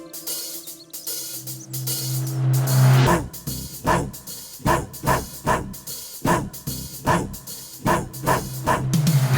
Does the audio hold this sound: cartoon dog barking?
yes